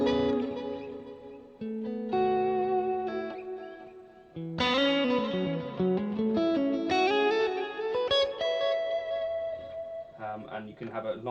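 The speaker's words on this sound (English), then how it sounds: "You do have this really nice modulated reverb" Guitar through a Quad Cortex modulated reverb plays a sequence of notes with a shimmering, wavering, washy tail and a long decay, moderately loud and alone.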